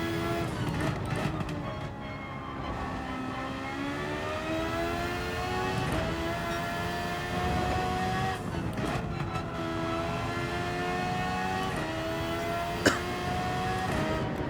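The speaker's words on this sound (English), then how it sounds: "Love how I can hear the blow-off valve in this car." A race car in a racing video game on the Trial Mountain circuit drones steadily, its engine rising and falling through several gear changes, with short turbo blow-off valve bursts between them.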